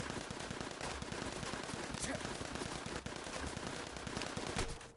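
Guards shooting at the player in the video game Assassin's Creed Chronicles, a dense continuous rattle of rapid gunfire with game ambience, steady and loud throughout.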